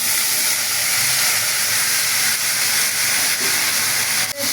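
Okra hits hot oil that was just tempered with cumin seeds and fries with a loud, steady hiss throughout. A brief clink comes near the end.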